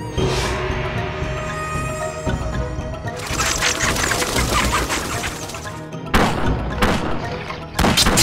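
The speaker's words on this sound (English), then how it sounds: "I need to gun them down with my musketeers" Musketeers fire their guns in the strategy game Battle Realms, with repeated sharp bursts of gunfire and crashes mixed into busy battle noise, loud and close, and a voice talking underneath.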